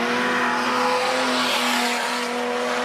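An outlaw sedan race car roars past at a speedway at night, its loud engine note sweeping by close and steady, with the pitch shifting as it passes.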